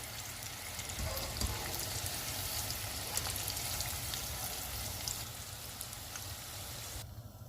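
Chicken popcorn pieces deep-frying in hot oil give a steady, close crackling sizzle like heavy rain that holds at an even level throughout, with no talking.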